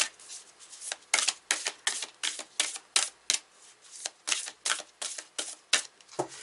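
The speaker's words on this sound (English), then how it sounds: "I'm going to take a card from the Gaia Oracle" Large Gaia Oracle cards are shuffled by hand in a steady run of crisp riffling flutters, about a dozen close bursts in quick rhythm with no talk.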